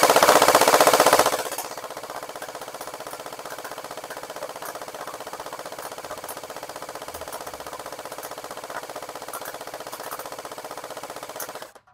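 A CosmoxToys gel ball blaster fires full auto in one sustained burst, a loud rapid mechanical rattle for the first second and a half, then a steady quieter whirring hum of the motor continuing to the end.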